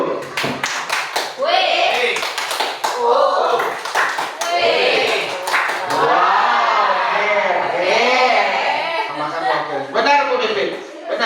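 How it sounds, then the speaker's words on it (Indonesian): A group applauds a teacher at a school gathering, with a quick burst of sharp hand claps near the start giving way to lively talk and a few scattered claps. "Tepuk lagi untuk Bu Pipin dulu."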